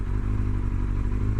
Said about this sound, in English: wind noise and engine noise, it really kind of adds to like some stress